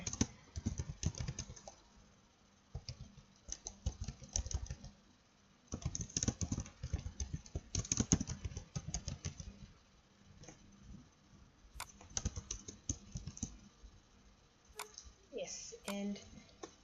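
Someone types HTML paragraph text on a computer keyboard in quick, irregular bursts of close key clicks, separated by short pauses and a few louder isolated taps.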